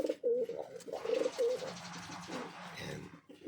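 Pet pigeons in a cage give soft, low throaty coos in short repeated bursts, heard close and fairly quiet, with faint rustling between calls.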